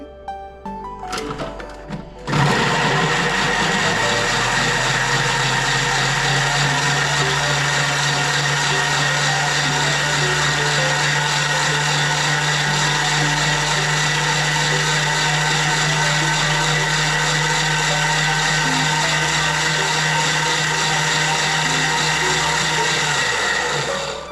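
A Thermomix kitchen machine blends chicken enchilada ingredients at top speed 10, a loud, steady high-pitched whirring roar that holds for about twenty seconds after a brief start-up clatter, then cuts off.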